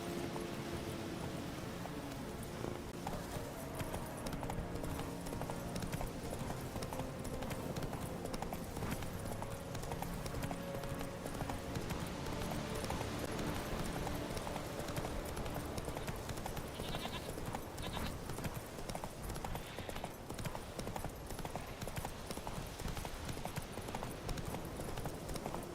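Horse hooves clip-clopping steadily along a long pathway in the video game Witcher 3, a continuous even rhythm that runs for the whole stretch at moderate loudness.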